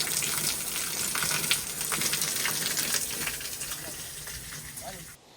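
Water gushes and splashes steadily from an outdoor freshwater fountain shower at a free public sports area in Russia, a continuous rushing, spattering flow close by, with a voice talking over it.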